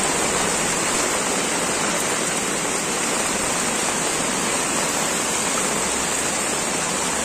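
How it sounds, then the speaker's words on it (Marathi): Heavy monsoon rain pours down on flooded streets in Virar, Maharashtra, in a dense, steady hiss that continues without a break, loud and close all around. "अरे काय झालं, तर खूप पाऊस पडतोय"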